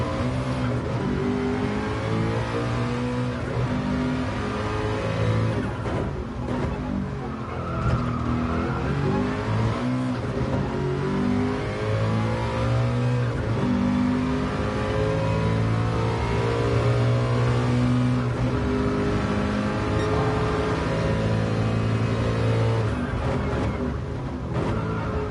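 Race car engine revving hard around Bathurst in the GT Sport racing video game, a loud continuous high-pitched roar with rising and falling pitch through gear changes and brief tire squeal, sustained throughout.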